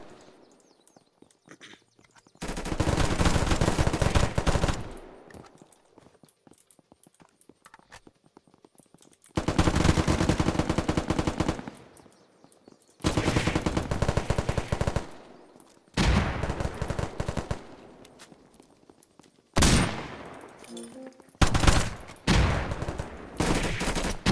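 Gunfire from a weapon in the video game Unturned comes in several long automatic bursts of rapid shots, loud and close, separated by short quiet gaps, with no talk over them.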